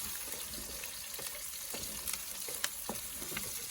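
Ginger sautés in a pan in a home kitchen, giving a soft, constant sizzle dotted with faint scrapes and clinks as it is stirred. No one speaks.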